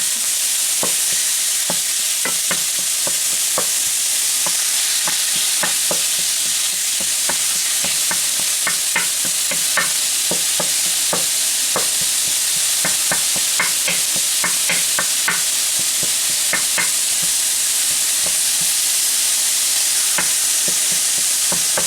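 Ground beef for a homemade cheeseburger skillet dish sizzles steadily in a pan while a utensil breaks it up, with repeated scraping taps over the constant loud frying and no speech.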